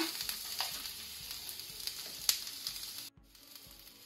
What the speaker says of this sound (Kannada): ಸ್ವಲ್ಪ ಲೈಟ್ ಬ್ರೌನ್ ಆಗುವಷ್ಟು ಫ್ರೈ ಮಾಡಿಕೊಳ್ಳುವ.